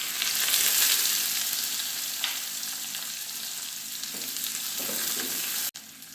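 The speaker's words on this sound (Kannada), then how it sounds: "ಕಡಲೆಬೇಳೆ ಸ್ವಲ್ಪ ಫ್ರೈ ಆದಮೇಲೆ ಕಟ್ ಮಾಡಿಕೊಂಡ ಈರುಳ್ಳಿ ಹಾಕಿ," Chopped onions and chana dal fry in a pan for an amaranth gravy, giving a steady broadband sizzle that holds throughout, with a few soft stirring clinks near the end and a brief cut before it resumes.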